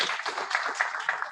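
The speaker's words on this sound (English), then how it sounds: "Round of applause as she makes her way up." Brief burst of audience applause at a women leaders' forum on the BBI proposals in Nairobi, close and fairly loud clapping across the whole short moment.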